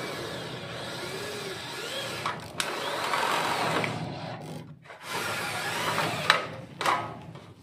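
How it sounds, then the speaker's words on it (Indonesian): A power drill bores into a light steel canopy post while building a sliding-gate support, making a fairly quiet whirring grind with brief pauses and a few sharp clicks. "Lalu kita bor ke tiang kanopi ya,"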